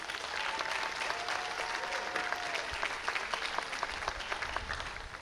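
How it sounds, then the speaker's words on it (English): Audience applause for volunteers at a Caribbean Days cultural festival, a steady wash of many hands clapping outdoors that holds for several seconds with a few sharper claps standing out. "So please give our volunteers a big round of applause."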